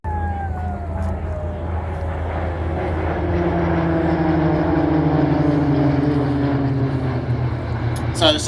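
Falcons synchro pair aircraft fly a display at Warbirds Over Wanaka. The engine drone is loud and steady and holds across the clip, with a pitch that slowly falls as the planes pass. An announcer talks over the noise.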